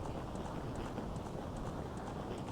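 Galloping black horse from the Zelda Ocarina of Time video game, a steady muffled thudding of hooves running under a constant dense rushing, even and continuous throughout.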